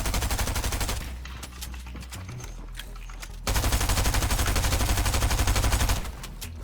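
Heavy shotgun gunfire in a video game, a dense, loud, continuous barrage of blasts that briefly thins and then returns even stronger, with no talk over it.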